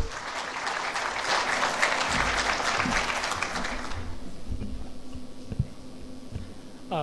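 Conference audience applauding to welcome a speaker to the podium, a dense burst of clapping that fades out after about four seconds, leaving room tone and small handling noises.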